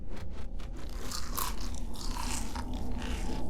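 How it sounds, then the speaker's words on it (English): Crunchy pizza is chewed close to the mic in a rapid series of crisp bites and crackling crunches, with no talking. "That's a crunchy pizza."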